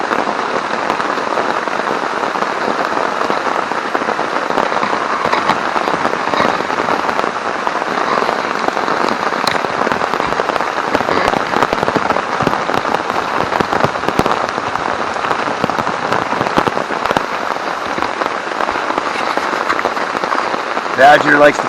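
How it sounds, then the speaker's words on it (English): Heavy rain pours down on a solo wild campsite in a steady, dense hiss of drops striking surfaces nearby, with sharper individual splats and no voices. "And this is the rain."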